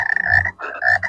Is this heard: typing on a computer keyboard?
no